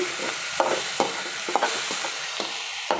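Drumsticks sauté in a pan, with a constant sizzling hiss broken by repeated scraping stirs of a spoon against the metal, close and fairly loud.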